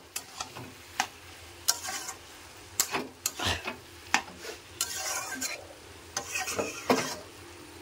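Food being stirred in a pan after sugar goes in: repeated soft scraping strokes in an uneven rhythm over a faint fry sizzle, fairly quiet and close.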